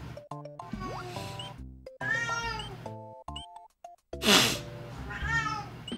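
A house cat meows repeatedly in several drawn-out, rising and falling calls, close and fairly loud, mixed with a tonal video game soundtrack and a short breathy burst near the end.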